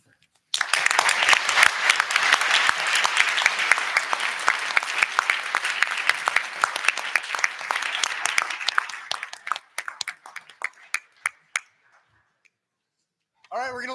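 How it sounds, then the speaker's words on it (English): An audience at an ethics bowl championship bursts into loud applause for two finalists that holds steady, then thins out to a few scattered claps before a brief voice at the very end. "let's give another round of applause for our two finalists"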